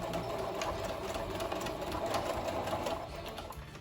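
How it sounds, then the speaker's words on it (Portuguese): A sewing machine runs steadily, stitching through the layered fabric and lining of a clutch bag with a half-centimetre seam allowance, using a size 14 needle and 100% polyester thread. The whirring stays close, continuous and fairly loud throughout. "Costura com margem de meio centímetro."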